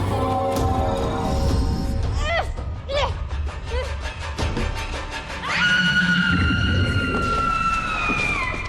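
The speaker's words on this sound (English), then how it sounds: "Powerful scream?" A powerful supernatural scream from the video game Murdered: Soul Suspect rings out as loud, wavering wails that rise and fall, then settles into a long, piercing sustained cry over a deep rumbling backdrop.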